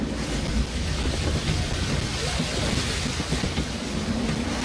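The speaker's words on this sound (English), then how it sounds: "Gusty winds can be difficult to manage" Wind and waves at sea under sail in Assassin's Creed III, a steady, loud broadband roar of surf and gusting air that holds constant throughout with no voices.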